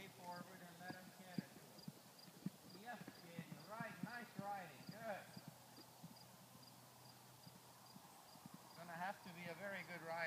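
A British Riding Pony's hooves clip-clop steadily across an arena at a working gait, the beats clear and moderately close, while a trainer calls instructions to the young rider over them and a whinny rises briefly.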